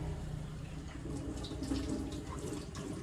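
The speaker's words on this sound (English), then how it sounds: "Or clean them, let's wash them." Zucchini rinsed under a running kitchen tap, a steady close hiss of flowing water with faint splashing and no talk.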